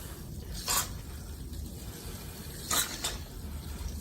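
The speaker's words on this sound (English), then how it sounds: "we'll just go ahead and spray some WD-40 on here." Two short hissing sprays of WD-40 aerosol lubricant onto a 1997 Honda Civic cylinder head, about two seconds apart, over a steady low background rumble.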